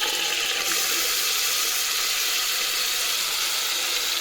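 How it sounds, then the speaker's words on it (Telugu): Masala paste for an aloo chicken curry hisses steadily in a hot pan as its water cooks off, a loud continuous sizzle with no pauses and no talking. "ఇలా సౌండ్ వచ్చేది ఏమి అంటే ఈ మసాలాలో ఉన్న వాటర్ అన్నమాట."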